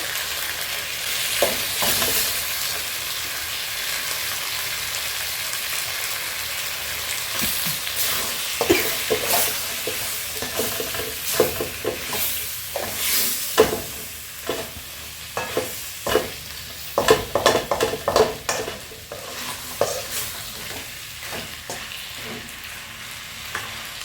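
Pieces of nkwobi cow skin (kpomo) fry in a pan with steady sizzling, broken by irregular scraping and stirring clatters as the pieces are turned over and over.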